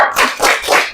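Classroom group clapping for the 'tepuk fokus' chant: three loud, close claps in quick even rhythm, heard alone without voices.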